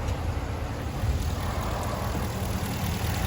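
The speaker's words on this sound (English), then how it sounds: "This car has a V8 engine in it." A steady low V8 car engine rumble idles continuously, close by, with no other sounds.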